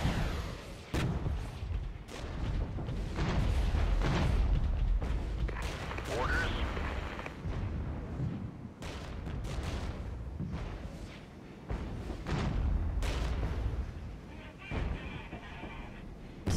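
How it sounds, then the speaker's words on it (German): Mortar fire and battlefield booms thud repeatedly in the Regiments war strategy video game, under a dense mix of game effects, with someone talking at intervals throughout. "Unser Mörser schießt da."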